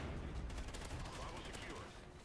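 Rapid gunfire crackles in Call of Duty: Ghosts, a dense fast-firing burst that stays loud throughout and fades slightly at the end, with a player's voice talking over it.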